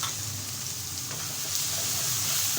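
Green chillies are stirred into a sizzling bhindi masala of cumin powder, garam masala and turmeric in a pan, a steady close crackle of frying with faint scraping from the stirring.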